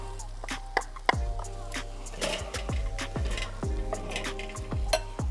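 Garlic stirred with a utensil in a hot skillet, giving a series of sharp scrapes and knocks over a steady low sizzle, close and moderately loud.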